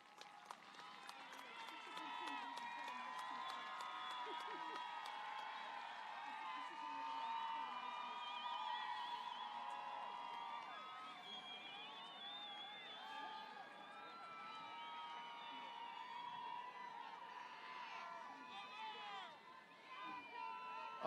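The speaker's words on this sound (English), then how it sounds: "Students, please show your appreciation and love by standing and clapping for your parents, family, and friends who are here with you tonight." Graduating students at Moreno Valley High School's 2023 graduation ceremony stand and clap for their families, a sustained crowd applause with scattered cheers and whistles rolling on evenly for about twenty seconds.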